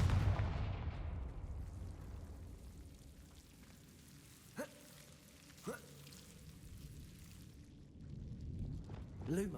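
Confringo blasting spell cast in Hogwarts Legacy, heard as two short sharp bursts in the middle over a low rumbling ambient bed, with a brief whooshing rise near the end.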